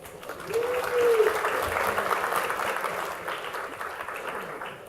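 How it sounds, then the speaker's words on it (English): Applause from the audience at a food summit in New York City, a broad steady wash of clapping that swells early and holds for about five seconds, with a brief voice rising over it near the start. "Give yourselves a round of applause."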